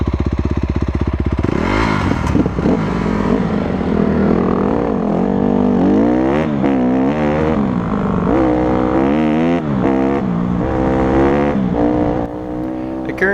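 A 2008 150R dirt bike rides single track through a canyon wash in the Badlands near Lyman, Wyoming, its engine buzzing loud and close with repeated revving surges and rapid throttle changes throughout.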